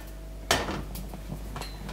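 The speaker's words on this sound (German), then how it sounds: "Ich nehme die Pfanne erstmal." A frying pan is lifted out and handled in a home kitchen while rice with chicken and vegetables is being cooked. One sharp metallic clank rings out close by, then fades into quiet rattling and low background hum.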